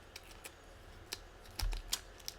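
Scissors snipping through paper around a drawn Squishmallow design for a DIY craft, heard as a few sparse, quiet, short cutting clicks in a still room.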